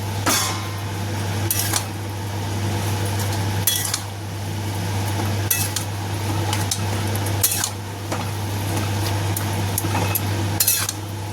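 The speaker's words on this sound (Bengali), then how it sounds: "এবার কিন্তু এটাকে নাড়িয়ে চাড়িয়ে দেবো" A spoon scrapes and knocks against a pot as a pumpkin and potato vegetable dish cooking in its own juices is stirred, sharp metallic clinks at intervals over a steady low hum, with no voices.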